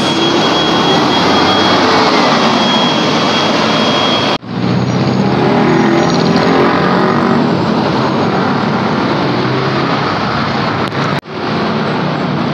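Bus 1819 LLI passes close by with a loud, sustained engine roar and rushing noise, interrupted by two brief abrupt drops in sound.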